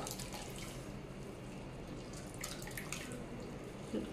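Soft, steady watery trickling and dripping with faint sloshing as grated bamboo shoot is squeezed out over a bowl of water, fairly close.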